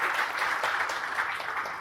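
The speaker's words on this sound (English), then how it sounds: "So we can give them a round of applause, please." Steady audience applause for a conference panel in Dubai, a dense, even wash of clapping held at moderate level throughout with no voices standing out.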